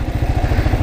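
A Kawasaki KLR motorcycle engine chugs close by at low revs while the rider does figure eights standing up, a fast, even thumping pulse that stays loud and steady.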